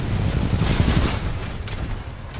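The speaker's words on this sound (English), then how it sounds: "That cannon that Monarch has is doing some pretty good damage to North Star overall." Monarch's titan cannon in Titanfall 2 multiplayer pounds away at a North Star titan, a dense, continuous barrage of heavy booming fire with rumbling low end that eases slightly toward the end.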